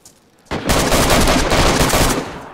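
Rapid automatic gunfire erupts in a video game deathmatch, a loud, dense burst of shots starting abruptly and rattling continuously for about two seconds.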